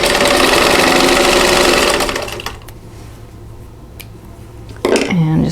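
A sewing machine stitches an owl quilt block in a loud, fast mechanical whir for about two seconds, then stops, leaving quiet handling noises before a voice starts speaking near the end.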